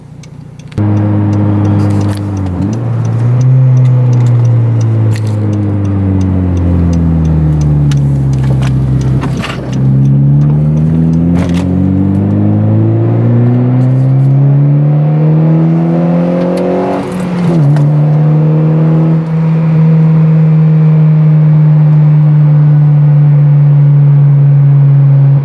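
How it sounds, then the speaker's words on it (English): A 2012 Honda Civic on the highway, with loud, close engine drone that rises through several gear pulls, each climb in pitch followed by a drop at the shift, before settling into a steady cruising hum with no talk. "So we're back, we're cruising on the highway."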